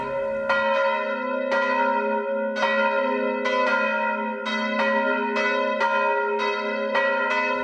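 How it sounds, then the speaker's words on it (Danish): Two church bells pealing before a church service, repeated loud resonant strikes about once a second with long ringing overtones, close and continuous with no voices. "der ringer man med begge klokkerne indtil enten kl. 9:30 eller også kl. 11, ligesom hvilken tjeneste det er, og slutter med bedeslagene"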